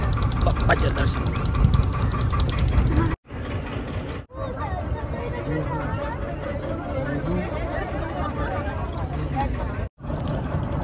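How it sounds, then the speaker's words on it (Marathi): A boat engine runs steadily and loudly as the boat sets off across the sea toward a Ganpati temple, with brief dropouts and people talking over it. "आता बोटीत बसतोय आम्ही होडीमध्ये आणि होडी आता चालली मंदिराकडे"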